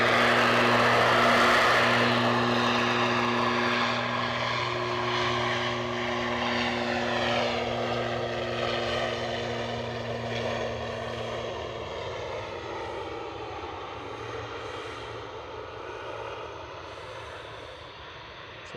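An ATR turboprop taking off at Edinburgh Airport: a loud propeller drone with strong steady tones and a rising whine that peaks early, then gradually fades as the plane pulls away, heard alone.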